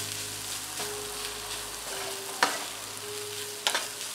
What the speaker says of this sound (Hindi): अब हम इसमें पनीर ऐड कर देते हैं और हीट को हम हाई से मीडियम पे कर देते हैं और इसको अच्छी तरह से मिक्स कर देते हैं